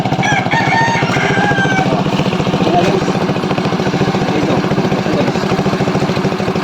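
A motorcycle engine that had sat unused for two years runs with a fast, steady idling putter, loud and close, while a rooster crows repeatedly in the background.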